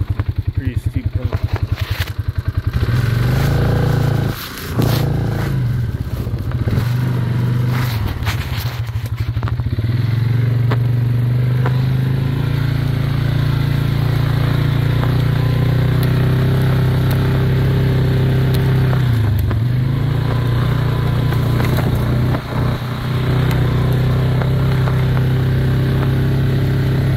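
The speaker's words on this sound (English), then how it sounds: "I just got my quad this muddy." A quad ATV engine drones steadily while riding a muddy trail, a loud close hum with revving dips, clattering and thumps over rough ground.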